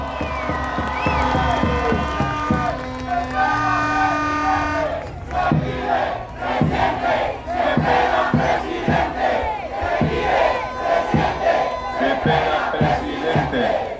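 A crowd at a political rally in Puerto Asís cheers and shouts, first under a drawn-out chant, then breaking into loud rhythmic roars and claps that continue to the end.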